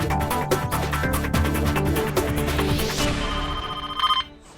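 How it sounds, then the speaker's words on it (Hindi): Telephone ringing in a Hindi TV drama scene, a steady electronic ringtone pattern repeating over background music, fairly loud and close, with no talk over it. "फोन बज्जू।"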